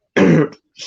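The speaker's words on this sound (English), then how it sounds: "I'm sorry for coughing." A single sharp cough or throat clear, close and loud, followed by a brief fainter breath or follow-up sound, with no talking.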